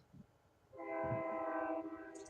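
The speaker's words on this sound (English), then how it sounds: "Sorry for the train, everybody." A passing train sounds a loud sustained horn chord that rises suddenly and holds for over a second, with faint rumble beneath and no talking.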